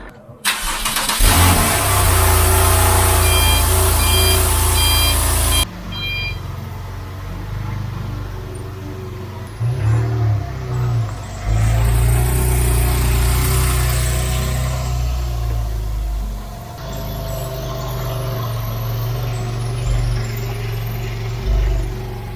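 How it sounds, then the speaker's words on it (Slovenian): A Porsche 911 driven through Barcelona streets, its engine loud and near, starting and then revving in bursts with drops to idle between pushes. "da se 911-ka da ven in potem se posebej s Porschem fura po Barceloni"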